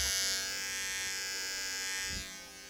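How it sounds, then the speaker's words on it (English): A Kemei KM-1835 hair trimmer motor hums steadily and loudly up close, a constant high electric buzz with a slight shift in tone near the end. "So I'll let you guys hear the motor,"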